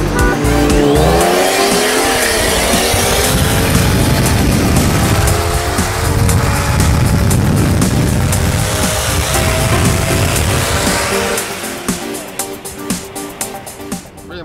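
Skoda Octavia and rival cars launch from a standing start in a drag race, engines roaring loud and close with tire squeal throughout, the din easing off near the end.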